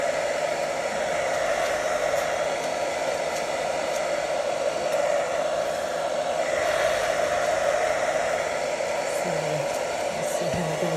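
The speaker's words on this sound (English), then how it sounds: "Just drying that off quickly with the hairdryer and just onto tissue" A hair dryer blows steadily to dry paint on stencils, a continuous close whirring hum that holds at one level throughout.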